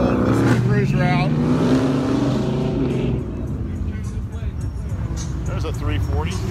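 Muscle cars roll out together at a car cruise, engines rumbling and revving loudly and steadily as vehicles pass close by, with crowd chatter underneath.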